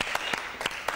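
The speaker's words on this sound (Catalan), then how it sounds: "Sí, sí, es pot aplaudir, tant que sí" A television studio audience applauds a guest, a dense burst of clapping with a few sharper claps standing out, fairly loud and close, with no speech.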